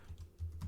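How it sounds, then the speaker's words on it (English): Quiet typing on a computer keyboard in a Linux terminal, a quick run of soft, close key clicks lasting under a second. "So let's type in sudo"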